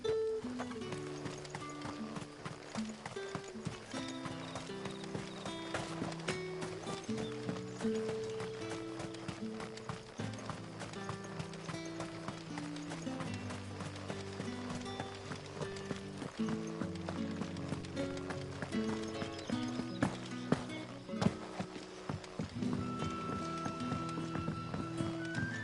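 A galloping mount in FFXVI drums out quick, steady hoofbeats throughout, layered over continuous game music with a light, distant whinny feel.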